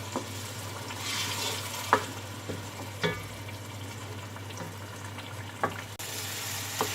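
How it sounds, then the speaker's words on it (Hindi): Masala sizzles and fries in a pot with a little water for spicy mutton paya, a soft steady crackle broken by occasional sharp pops and stirring scrapes, close and without speech. "मसाला भून रहा है, इसमें पानी खुश्क हो गया है"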